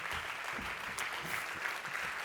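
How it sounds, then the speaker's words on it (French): An audience applauding the organising team at the closing plenary of a trade fair: a short burst of steady, fairly distant clapping with a few sharper individual claps standing out. "on les applaudit très fort"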